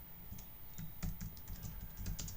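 Quick bursts of typing on a computer keyboard while entering C# console code, keys clicking in short irregular clusters, close and moderately quiet, without talk.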